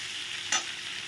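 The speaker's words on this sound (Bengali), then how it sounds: "আলুটা দিয়ে একটু নাড়তে থাকো" Boiled potatoes stirred and fried in a pan, a brief scrape of the spatula with a short burst of sizzle over a steady frying hiss.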